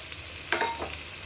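Spices with red chili paste, black pepper and a little water stirred and sautéed in a pan, giving a soft steady sizzle with a brief scraping stir midway, close and without talk.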